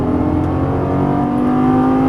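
A Lamborghini Gallardo LP550-2 engine revving under throttle, a loud, close, steady engine tone that builds slightly in pitch and volume over two seconds, with no talking.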